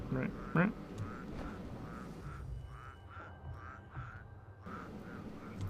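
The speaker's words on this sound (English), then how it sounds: "Why are those birds making duck sounds?" Birds in a video game give a run of short, evenly spaced duck-like quacking calls, repeating about once per second at moderate volume, with a brief voice and soft game ambience underneath.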